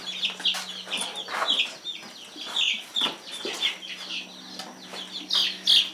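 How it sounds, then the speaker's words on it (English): A flock of baby chicks in a coop clucks and chirps steadily at close range, a busy overlapping chatter of short calls with no talking. "Let's put them chickens in there."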